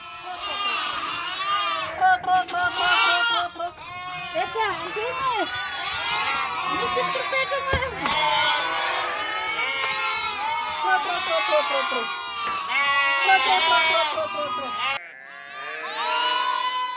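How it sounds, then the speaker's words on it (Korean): Sheep and goats bleat in a pen on a farm on the open Siberian steppe, a dense near chorus of overlapping wavering cries, many animals calling at once almost without pause, including ewes that have recently given birth. "바깥 우리에 있는 양들은 출산한 지 얼마 안 된 어미 양들입니다."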